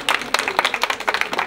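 An audience at a certificate ceremony for graduates claps in a brief, steady patter of applause with no voices over it.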